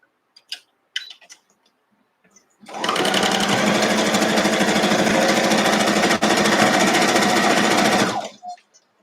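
A sewing machine stitches a quilt block with a 1/4-inch foot, running in one loud, steady, rapid mechanical whir for about five seconds after a few faint handling taps, then stopping.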